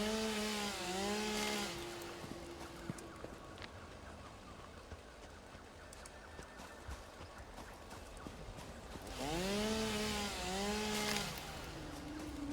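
A chainsaw revs up in the video game Satisfactory while cutting trees, first as a loud rising-and-falling whine lasting about two seconds, then again after a lull of quieter game ambience, with a second sustained burst near the end.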